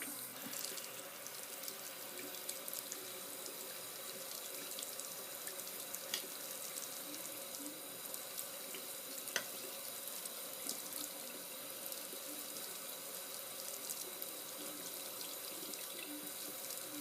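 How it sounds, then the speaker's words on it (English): A tap runs steadily into a sink at a face painting table, a constant close hiss of flowing water with a faint clink partway through. "Here comes the water."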